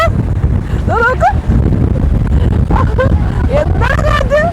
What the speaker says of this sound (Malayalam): എന്താ കാറ്റ്.